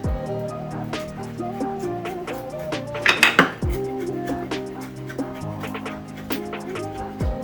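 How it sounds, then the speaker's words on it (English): Knife chopping fresh basil on a cutting board, a series of soft, close taps and knocks with a brief louder clatter in the middle, over a faint kitchen hum. "We're holding it down here at the back and just bringing our knife through. Gotta get some nice chopped pieces."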